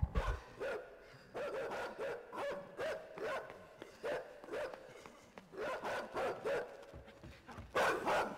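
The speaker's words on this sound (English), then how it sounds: "Oh, the dog's still coming, eh?" A dog in the side-scrolling game Inside barks repeatedly in short bursts amid chase sounds, medium-near and fairly loud against a busy game soundtrack, with no talk over it.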